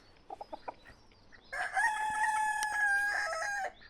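A few soft hen clucks, then a rooster crows loudly and close by, a long sustained call lasting about two seconds.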